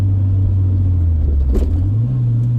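A stock first-generation Honda CR-V fitted with a Yonaka catback exhaust downshifts while driving, giving a deep, steady exhaust drone that rises in pitch near the end as the revs climb, with no talking.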